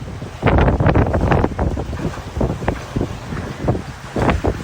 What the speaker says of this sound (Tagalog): Sa Bagasbas Beach sa Daet Camarines Norte, malalakas din ang hampas ng alon.